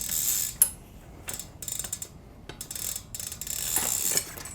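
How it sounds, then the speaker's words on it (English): Tools working loose the chain tensioners on a BMX bike, close and quiet, with a few clicking, ratcheting turns and metallic scrapes separated by short pauses. "Mine were pretty tight, so I'm loosening those up."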